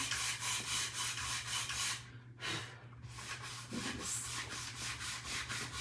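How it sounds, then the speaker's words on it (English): A power sander works the edges of a wooden star, making a steady rubbing, whirring grind that runs nearly throughout, pausing briefly near the middle before resuming, close and fairly quiet. "So we're gonna sand the edges."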